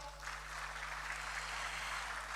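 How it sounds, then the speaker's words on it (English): Faint, distant applause from an audience at a Ghanaian official event, a soft continuous wash of clapping with a steady electrical hum underneath. "Please give him a big round of applause."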